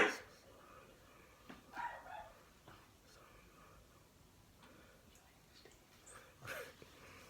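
A dog barks a few times at a distance, sharp yelps scattered over quiet background with faint murmuring.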